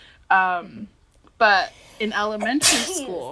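A single short sneeze bursts out during a casual spoken conversation, set between stretches of clear talking.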